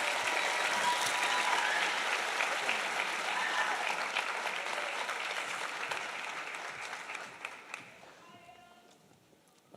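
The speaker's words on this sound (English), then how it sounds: "Everyone, please give our superintendent the biggest round of applause for his effortless work." Big audience at an annual school superintendents' honors night applauds steadily and loudly for about eight seconds, the clapping thinning and fading toward the end, with a few scattered late claps.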